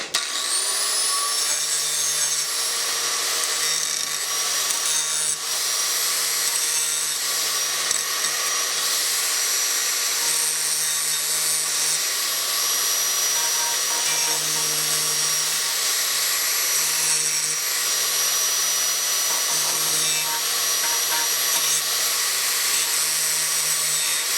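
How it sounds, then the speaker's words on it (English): An angle grinder grinds down the metal lip on a Duke DP trigger during a push/pull conversion, a loud steady high-pitched whine running continuously and close with no pauses. "Take your grinder,"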